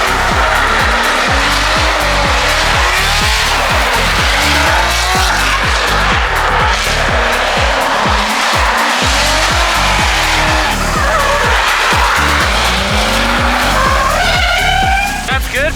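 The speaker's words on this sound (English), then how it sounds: "Now I'm gonna have her do some like second gear, pretty much wide open, big figure eights." A C6 Corvette competition drift car runs big second-gear figure eights near wide open throttle, engine roaring in rising and falling surges as the tires squeal almost continuously, very loud and close, with brief talk in the background.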